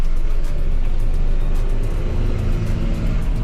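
A tractor engine revs loudly and close by, climbing through two gears as one continuous heavy drone.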